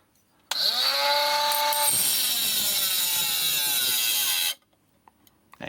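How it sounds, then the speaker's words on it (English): A 12V battery-powered mini angle grinder grinds in one continuous burst of about four seconds. It gives a loud, steady, high-pitched whine with no talk over it, then cuts off abruptly. "but the minute you start grinding something"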